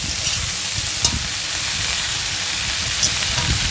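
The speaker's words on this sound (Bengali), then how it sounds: "এটা আমি ভালো করে নাড়াচাড়া করে নেব যাতে তেলের সাথে ভালো করে মিশে যায়।" Kalmi greens and potato frying in hot oil in a pan while being stirred, giving a steady close sizzle with soft scraping bursts from the stirring throughout.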